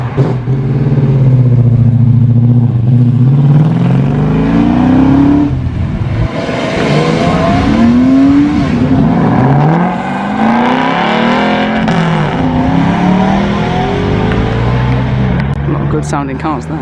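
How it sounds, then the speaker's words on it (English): A Porsche sports car engine revs and roars as it pulls away from a car meet, pitch rising through the gears, with people talking nearby over the engine noise. "We've also got a Porsche leaving, and hopefully the Mustang soon."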